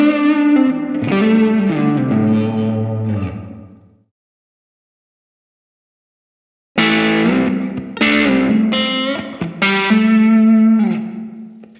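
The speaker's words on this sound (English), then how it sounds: "it gives us this ability to add some motion to the sound and add some movement to the plate reverb" Electric guitar chords ring out through a Line 6 Helix dynamic plate reverb, lush and shimmering with slow swirling movement, then silence, then more strummed chords with the same wash.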